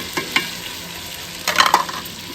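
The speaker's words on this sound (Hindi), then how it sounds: "चलो टमाटर मिर्ची भी डाल दो" Tomatoes and chillies going into a hot cooking pot over browned onions on a village wood fire, a soft hiss with a couple of clinks, then a louder burst of crackling sizzle near the end, no talking.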